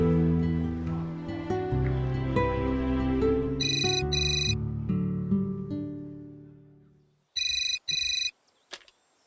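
A telephone rings in short paired bursts over loud background music, then rings twice more on its own after the music fades.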